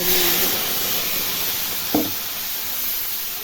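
A paste of ginger, cumin and green chili hits hot oil with a steady, bright hiss and sizzle, plus a brief clatter partway through.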